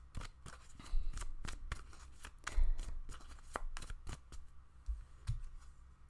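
Tarot cards riffle and snap in a run of crisp, close shuffles, with soft slaps and flicks as cards are drawn and laid down for a pick-a-card reading about money and career.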